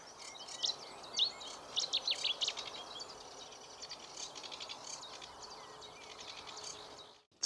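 Many birds chirp and trill together in the dawn chorus at 5 a.m. on a marsh on Anglesey, bright overlapping calls over a steady hiss of insects, fairly distant and layered.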